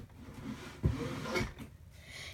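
A desk drawer in an art desk stuffed with supplies slides open with a short wooden rub and a thump, close and fairly quiet, alone without talk.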